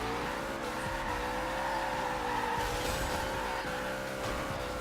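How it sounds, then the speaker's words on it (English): A car does a standing burnout in a racing video game, its tires squealing in a steady, sustained screech over a droning engine, loud and close with no talk. "Do a standing burnout."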